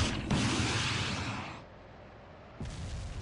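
A single loud, close blast from an AT4 launcher fired on a shooting range, a sharp broadband burst that rolls off over about a second and a half, followed by a second thump near the end.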